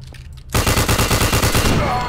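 Rapid automatic gunfire in a video game, loud and sustained, starting abruptly after a brief quieter moment and continuing in a fast steady rattle.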